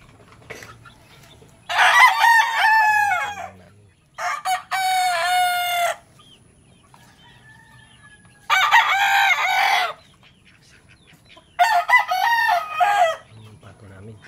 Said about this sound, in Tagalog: Tapos may manok kami doon sa kabila.